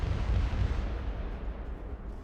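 A mortar emplacement blown up in a Warhammer 40K game, a deep rolling explosion rumble that is loudest at the start and then decays into a sustained low roar.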